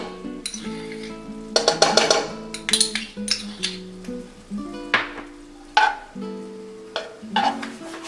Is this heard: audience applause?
no